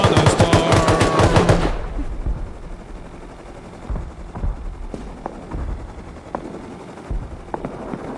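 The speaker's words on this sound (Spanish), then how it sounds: "Mira, mira, están peleando con la escopeta." Video-game shotgun gunfire crackles in a rapid, loud burst for under two seconds, then smaller scattered shots and thuds follow more faintly against a steady background rumble.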